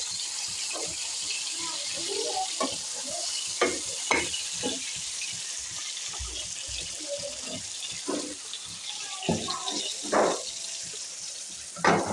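Broiler chicken pieces fry in a pan with a steady sizzle, broken by scattered scrapes and clatters of a stirring spoon and a few brief splashy bursts.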